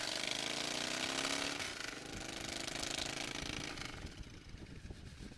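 A motorcycle engine running with its mufflers removed gives a loud, raw, rapid-fire rumble close by. It roars steadily, then eases into a choppier, pulsing idle.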